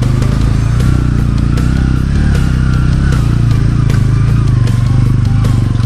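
A Bajaj Pulsar N160 motorcycle grinds off-road over rocky, muddy ground as the rear wheel skids, its engine droning loud and close throughout with scattered clattering and scraping over the top.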